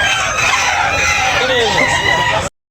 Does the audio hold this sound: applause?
no